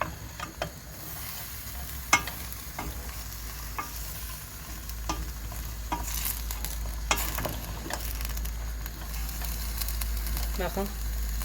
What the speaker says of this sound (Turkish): Bunu böyle kavuracağız.